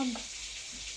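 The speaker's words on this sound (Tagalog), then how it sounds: "nag-prito ng daing na bangus, borlis. Ayan, mainit." Dried milkfish (daing na bangus) frying in a hot pan, a steady soft sizzle with a brief voice at the start.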